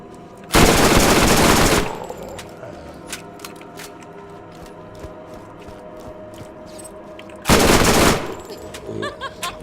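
Two loud bursts of SMG fire from a Dahl weapon in the video game Borderlands, each rapid stream lasting over a second, with quieter clicks and game noise between them and no talk.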